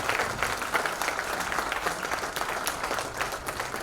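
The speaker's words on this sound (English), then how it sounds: "please big round of applause to our Emeritus Chairperson" A medical conference audience gives a steady round of applause to an emeritus chairperson after an oration, dense even clapping from a large crowd filling the whole moment.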